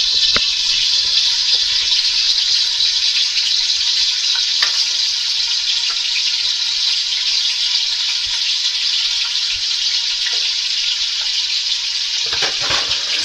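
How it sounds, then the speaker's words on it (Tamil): Mutton fat going into a pot of boiling dalcha, a steady loud bubbling and sizzling wash that holds evenly throughout, with a few faint clinks near the end and no speech. "கொதி வந்துருச்சு இப்போ வந்து கொழுப்பை போட்டுருவோம்"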